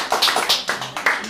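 Audience applause welcoming a teacher to the stage at a folk couplet gathering, a short burst of scattered, uneven clapping from a small crowd, fairly close and moderately loud.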